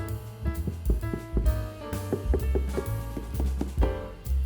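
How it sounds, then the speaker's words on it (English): Knocking on the wooden body of a DIY boombox sets off a quick string of resonant, hollow thuds with ringing tones, irregular in rhythm and close by, with no voices over them. "You bang on a guitar, you're gonna hear sounds like that."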